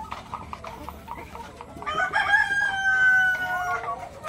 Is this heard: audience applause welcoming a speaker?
no